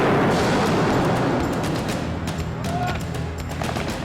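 Loud bursts of blank gunfire from a mock Taliban ambush on patrolling British Army grenadiers during a military training exercise, dense overlapping shots and crackling volleys at close range, sustained throughout.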